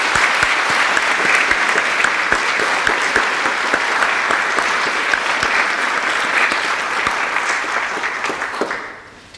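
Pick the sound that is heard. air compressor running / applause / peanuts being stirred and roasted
applause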